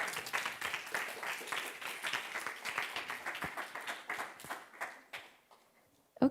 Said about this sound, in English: round of applause for Kenny, please